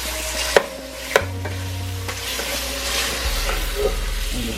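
Beef and lamb frying and being stirred in a pot of curry: a steady close sizzle broken by a couple of sharp utensil clanks early on, then continued stirring scrapes, with no talking.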